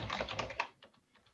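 Keys tapped on a computer keyboard while entering a name as artistic text in memorial design software, a quick dense run of clicks that thins to a few scattered strokes, close and clear with no talking.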